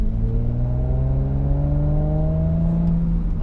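An Audi S4 engine revs steadily upward, its deep tone climbing in pitch as it accelerates, loud and close with no talking.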